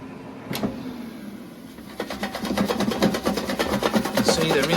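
Chips rattling as they are shaken in the drawer of a Ninja Foodi Dual Zone 7.6L air fryer. A single knock comes first, then a loud, close, rapid and steady rattling for the rest of the clip.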